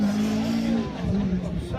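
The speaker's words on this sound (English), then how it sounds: "And there is Stuart Ramby in the Mark II Escort." Ford Escort Mark II rally car on a special stage at a rally event, its engine a loud, close, droning roar that shifts pitch as it passes, with a commentator talking over it.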